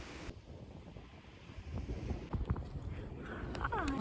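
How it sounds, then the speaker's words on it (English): Strong wind blows across a beach, buffeting the microphone in steady rough gusts that grow louder toward the end, with surf faintly beneath and a few brief higher sounds near the close; no one speaks. "I'm currently at the beach and it's very windy here"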